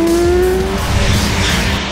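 Car driving and skidding in the open-world video game Sleeping Dogs, a loud, continuous engine roar with a steady tire squeal sustained throughout.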